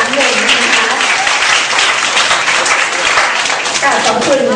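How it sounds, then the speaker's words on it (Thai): A seminar audience claps loudly for the guest speakers, sustained dense applause filling the room while a voice is heard over it. "ขอเสียงดังๆปรบมือให้ท่านวิทยากรอีกครั้งหนึ่งนะคะ"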